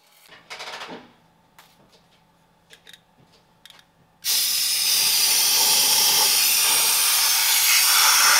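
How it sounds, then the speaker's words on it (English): Brake cleaner spray and compressed air blasting grime off the manual transmission housing of a Volvo V70 (M66/M56 gearbox): a few short clicks and bumps, then a loud, steady, close hiss of air that continues without a break. "I'm using some brake cleaner and compressed air to clean off the transmission housing from all the gunk"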